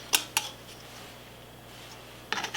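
A metal lid clinks onto a hot glass jar of carrot cake jam, two sharp taps close together, a quiet pause, then a short cluster of light metallic clatters.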